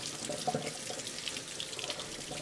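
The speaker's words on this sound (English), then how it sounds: "I'm just going to run these under cool water." Cool tap water runs steadily over boba tea pearls in a kitchen sink, a continuous soft splashing hiss with no talk.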